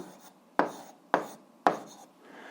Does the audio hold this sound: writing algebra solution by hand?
yes